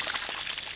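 Thin, splashy trickle of water from a tap fed by a nearly empty reservoir, a faint uneven dribble with soft hissing spatter, close by and brief.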